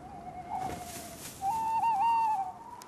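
A tawny owl calls in a night forest, giving a short hooting note followed by a longer, wavering tremolo hoot, moderately close against a soft background hiss.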